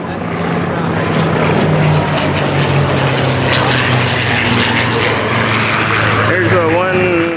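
An Osprey tiltrotor's huge propellers roar loudly and continuously at the 2019 MCAS Miramar airshow, a dense, droning engine and rotor noise with a voice talking over it.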